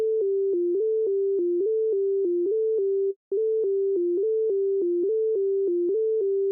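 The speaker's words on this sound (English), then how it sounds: "Very first thing I'm going to lay out is this very repetitive sine leads." Pure sine-wave synth lead in an FL Studio jazz-style beat, playing a short, repetitive stepped melody of clean sustained notes, loud and alone, with a brief gap midway before the pattern repeats.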